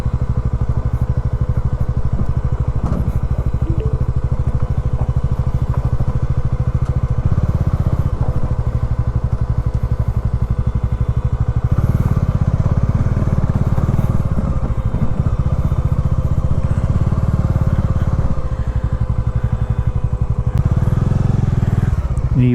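A Bajaj Dominar 400 and a KTM 390 ride off-road on a forest route, their engines droning loud and continuous with clattering and rumbling from rough ground throughout.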